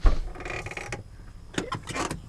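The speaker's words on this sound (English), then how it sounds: "if you have a door making this noise from this holding right here" A Toyota Sienna driver door creaks and groans as it is swung, a rough grinding squeak from a faulty hinge holder repeating in short bursts, close to the microphone.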